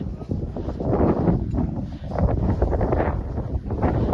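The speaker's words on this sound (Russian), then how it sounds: "Ого, какой ветер." Strong wind buffets the microphone with a loud, continuous roar and gusty rumble, with no voices heard over it.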